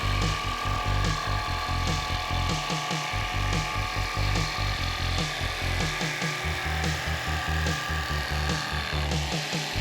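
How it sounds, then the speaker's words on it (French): A hacksaw cuts notches into a wooden plank in quick, rhythmic back-and-forth strokes, close and rasping, with brief pauses between bursts. "à l'aide d'une scie à métaux, réalisez des encoches dans la planche"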